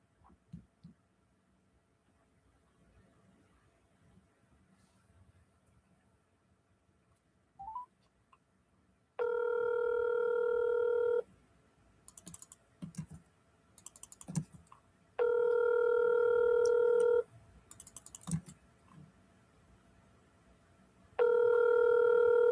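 A phone call placed from a handset: a few faint short beeps, then steady electronic tones repeat in long bursts of about two seconds separated by quiet gaps, close and clear with no voices.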